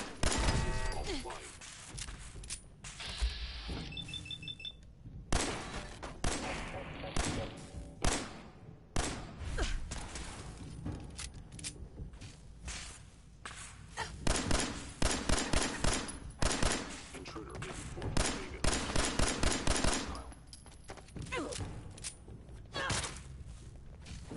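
Rapid bursts of gunfire from shooting robots in a video game crackle loudly again and again, with short pauses between volleys and a voice now and then.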